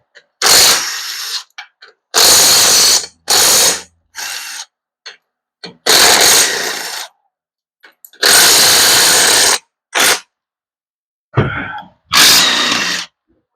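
Hand ratchet working bolts off the valve body of a Ford C4 automatic transmission, heard as loud bursts of rapid clicking separated by short pauses, close up with no talking.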